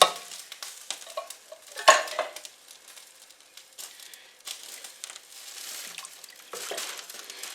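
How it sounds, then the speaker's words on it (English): A can of mixed vegetables tipped into a pot of beef noodle soup, a sharp clatter and splash followed by stirring and scraping in the pot, steady kitchen noise with no voices. "And I'm adding a can of mixed vegetables."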